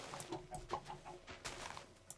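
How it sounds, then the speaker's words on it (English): Minecraft chickens cluck in a quick, scattered series of short calls, fairly close and light, with no talking over them. "It's all the fault of those two chickens."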